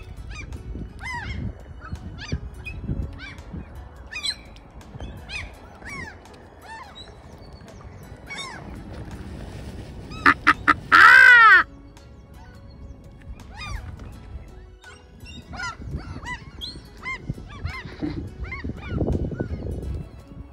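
A swan with ring number Y598 calls in brief honking notes spread over a busy outdoor scene, with a loud clattering burst partway through and scattered background noise.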